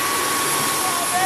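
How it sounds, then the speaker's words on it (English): The loud, steady roar of a jet engine running to push a sail, constant and unbroken throughout. "this jet engine is going to give us adequate speed"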